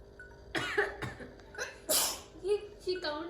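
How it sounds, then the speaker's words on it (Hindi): A person lets out a few cough-like sneezes, short sharp bursts close to the microphone, spaced through the moment and mixed with laughter and talking voices. "मेरी वाली खांसी वाली छींक"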